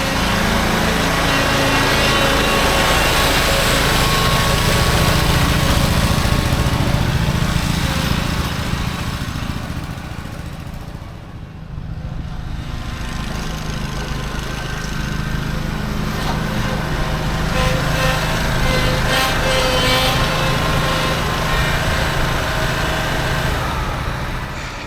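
A log splitter's small engine idles steadily while warming up outdoors before splitting a tri-axle load of logs, a constant close droning hum with a brief dip midway and no talk.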